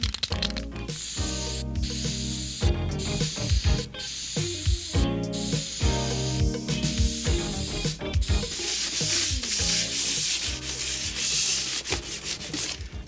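Spray primer being applied to a garden wagon from an aerosol can, bursts of close hissing spray separated by short pauses, turning into a longer steady hiss in the second half.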